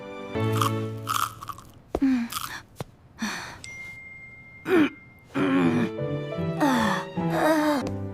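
A sweet, crunchy cookie bitten and chewed close to the mic, with repeated loud crunches in uneven bursts, separated by short sharp clicks and pauses.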